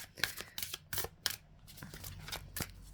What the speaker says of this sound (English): I can't seem to shuffle.